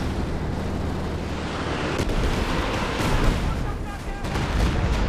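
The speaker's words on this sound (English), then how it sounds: "Here comes the artillery." Artillery barrages in Company of Heroes 2, a 2v2 match, roll in as loud, dense booms and crackling blasts. They build into a continuous battlefield rumble with no break.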